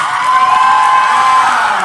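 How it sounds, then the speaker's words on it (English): An audience at a community college keynote event claps and cheers for Dr. Dewan, producing a sustained, loud wash of applause with whoops and shouts throughout. "Give her another hand clap for me, come on."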